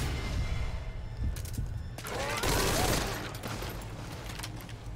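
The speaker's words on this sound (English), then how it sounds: "We're hearing gunfire. Unknown location." Gunfire in Metal Gear Solid V: Ground Zeroes comes as a dense, sustained fusillade of rapid shots, loud and continuous over a steady background din, swelling midway through.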